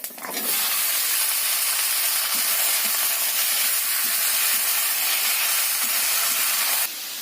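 Bottle gourd pieces dropped into hot oil with panch phoron, bursting into a loud, steady sizzle that holds continuously for several seconds before easing slightly near the end.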